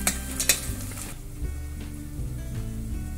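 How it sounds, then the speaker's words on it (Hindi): Onions fry in a pan for pav bhaji, a steady close sizzle broken by a few sharp clinks and scrapes of a spoon stirring against metal early on. "अब बाजू में मैं प्याज को मिला रही हूँ, ये भून रहे हैं"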